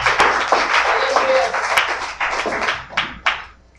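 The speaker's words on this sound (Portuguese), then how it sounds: "Uma salva de palmas a Jesus Cristo." A church congregation gives a round of applause, a dense patter of clapping with voices and shouts mixed in, fading out near the end.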